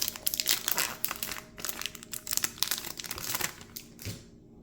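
Foil trading card booster packs for the Lord of the Rings TCG Mines of Moria set being torn open, a dense run of close crinkling and ripping foil that keeps going for several seconds before it stops.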